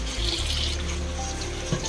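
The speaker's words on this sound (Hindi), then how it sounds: "पूरा बर्तन में पानी को भर्ती करके।" Tap water runs into a vessel as oik leaves are washed, a steady close rush and splash with no talking.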